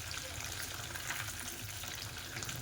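Large chicken pieces for dry chilli chicken deep-frying in hot oil, a dense, continuous crackling sizzle that stays even and close for the whole stretch with no talk over it.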